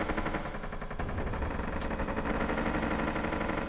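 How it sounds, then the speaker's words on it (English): Rapid bursts of game gunfire crackle continuously, dense and fairly quiet, with overlapping shots and no voices. "Gunfire being exchanged from both teams."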